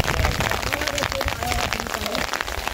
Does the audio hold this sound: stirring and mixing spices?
no